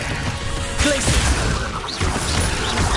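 The Glacius ice spell is cast in a Harry Potter video game, producing a sharp crashing burst over a dense, continuous backdrop of game sounds.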